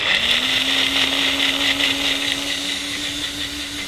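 A blender runs at high speed on soaked cashews and water, a loud steady motor whine that rises in pitch as it starts and then holds a constant grinding hum throughout.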